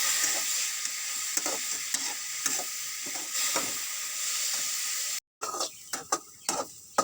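Carrots sauté in a pan for carrot rice after a light sprinkle of water, giving a loud continuous sizzle with rhythmic spatula scrapes, a brief gap, then sharper clacking stirs against the pan.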